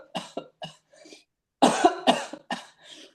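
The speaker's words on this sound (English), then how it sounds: "So first thing I do is I cough." A series of coughs, a few softer ones first, then a louder cluster of harsh coughs after a brief pause, close to the listener.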